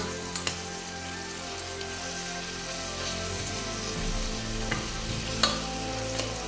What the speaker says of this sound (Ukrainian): Так, додали вже морку перемішуємо і морку смажемо до тих пір, поки олія не стане помаранчевого кольору морквяного.